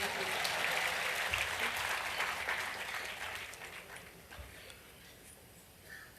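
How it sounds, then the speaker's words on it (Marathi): Applause from an audience at a state-organised Diwali dawn cultural programme in Maharashtra, loud dense clapping that fades gradually toward the end into scattered claps. "टाळ्या वाजवायला हरकत नाही."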